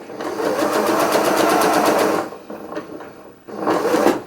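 A sewing machine runs a normal standard stitch on a colourblock sweatshirt panel, a fast even rattle for about two seconds, a pause with small clicks as the needle stops down, then another short burst, close and loud.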